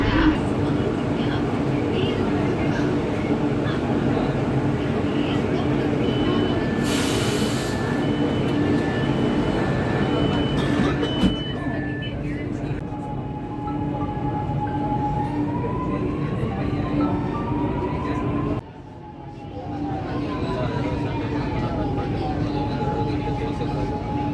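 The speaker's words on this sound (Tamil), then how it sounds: "அடுத்ததாக ட்ரெயின் இப்போ நிக்கிறது தாங்க நேரு பூங்கா மெட்ரோ ஸ்டேஷன்" A Chennai Metro train slows to a stop at Nehru Park metro station, its rumble and whine falling away, then a gentle tonal hum rises as it sits at the platform.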